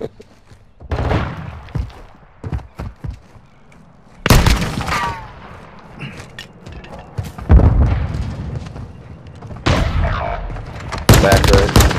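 Gunfire crackles through an online multiplayer match of Call of Duty Modern Warfare 2 during a pistols-only round, with loud bursts of shots and impacts at close range, dense in places and separated by quieter stretches.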